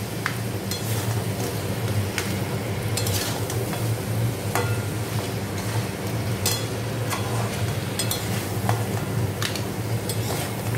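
Crabs stirred and sautéed in a pan for crab malai curry, a steady close sizzle with repeated scraping stirs and occasional metallic knocks of the spoon, no talking.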